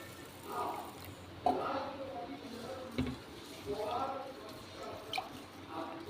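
Rice is swished and rinsed with water in a bowl, giving soft intermittent drips and wet squishes under a speaking voice.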